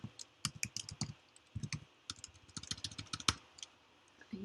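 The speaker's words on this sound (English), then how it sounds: "I'm going to type that right here in the chat" Quiet, close keystrokes tap on a computer keyboard in quick irregular bursts, with brief pauses between runs of typing.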